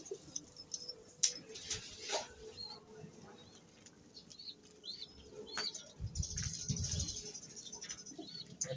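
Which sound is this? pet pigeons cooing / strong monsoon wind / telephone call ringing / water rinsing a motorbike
pet pigeons cooing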